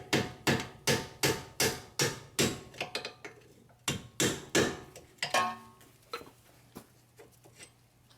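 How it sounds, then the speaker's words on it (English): Hammer taps driving a bolt out of a Nissan Murano steering knuckle, a fast run of about a dozen sharp metallic strikes, then a pause and a few more spaced blows, close and clear with no talk. "So I'm gonna tap this bolt from this side so it can come out."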